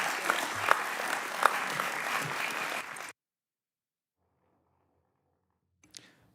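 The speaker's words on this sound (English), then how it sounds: "Let's give Mr. Shaughnessy a big round of applause." An audience at a congressional hearing gives roughly three seconds of steady, moderately loud applause that cuts off abruptly into near silence, followed by a faint brief knock.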